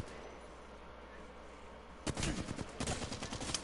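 Gunfire bursts in a multiplayer shooter game begin about halfway through, clustered rapid shots after a quieter stretch, fairly loud against a low background hum.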